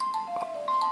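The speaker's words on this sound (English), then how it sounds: "oh, that was my phone" A mobile phone rings briefly near a vaping mech mod setup, a short electronic ringtone of steady tonal beeps with bright upper chimes, fairly quiet and heard alone.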